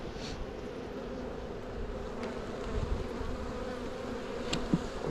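Honey bees from a feisty, agitated colony buzz steadily during a March hive inspection, a dense continuous hum holding close and even throughout, with a few brief louder passes near the microphone.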